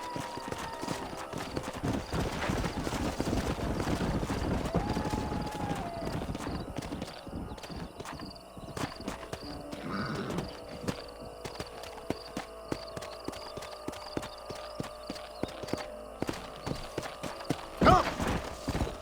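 Horses' hooves clip-clopping in Red Dead Redemption, a steady rhythmic run of many hoofbeats close by with occasional whinnies and a snort near the end, over game ambience and some background music.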